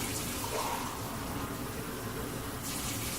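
Water running from a sink faucet during hand washing, a steady loud hiss and splash that continues unbroken and close by, with no voices over it.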